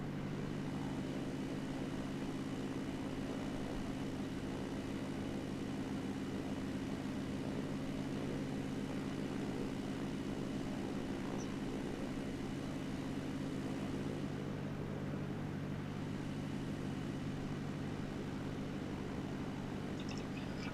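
A steady, even drone of airliner engines in a flight simulator game, with an Airbus A320 nearby, holding a constant hum throughout without talk.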